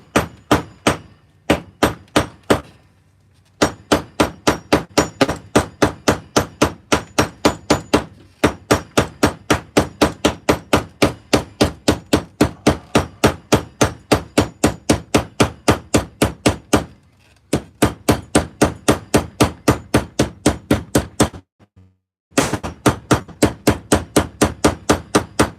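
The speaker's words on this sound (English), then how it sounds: "Get a little bit of a bigger hammer here and just start peening this down." Steady, rapid metallic hammer strikes peening down a leather knife sheath ring out loud and close, a long run of even blows broken by a few short pauses.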